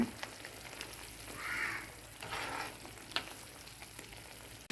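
Chilli paste with cumin and coriander frying in a hot pan, a soft steady sizzle with brief louder hisses as it is stirred, with no talking.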